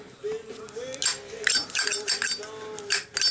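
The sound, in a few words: Zippo lighter with steel insert being flicked and lit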